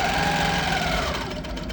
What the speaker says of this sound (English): I'm stitching in about 11 stitches per inch